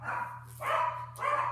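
Dogs barking indoors in a bedroom filming setup, three loud barks in quick succession over a steady low electrical hum, close to the microphone with no talking.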